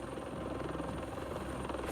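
A helicopter's rotor and engine drone continuously, a dense low thumping rumble heard from a documentary soundtrack about the Black Hawk Down battle, steady and fairly loud with no speech.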